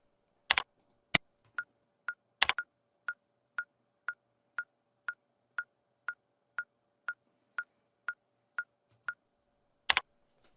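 Sharp, evenly spaced clicks from a wood block in a steady rhythm, about two per second, with a few louder knocks at the start and end, otherwise quiet.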